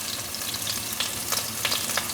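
Tofu pan-fries in a wok with a little oil until both sides turn crisp, crackling in a steady sizzle dotted with quick sputtering pops, with no voices.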